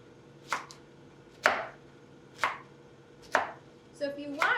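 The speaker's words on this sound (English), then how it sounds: "You're just gonna slice it to create these little half moon shapes." A knife slices zucchini into half-moon pieces on a cutting board for ratatouille, giving four evenly spaced crisp chops followed by a quicker flurry of cuts, close and clear in a quiet room.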